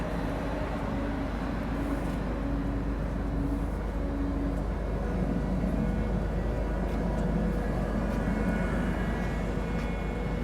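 A steady, loud roar of a boat's large ventilation fans drawing air at their intakes, a continuous broadband rush with a low hum and no voices.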